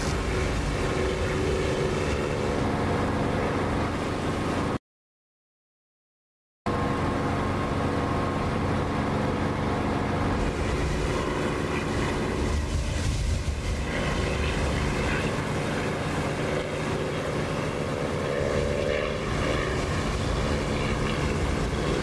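A steady, dense fighter jet engine roar in the DCS flight simulator drones continuously, broadband and unbroken, interrupted once by a brief total silence before resuming at the same level.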